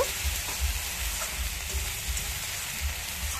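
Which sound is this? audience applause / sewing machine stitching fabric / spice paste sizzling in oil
spice paste sizzling in oil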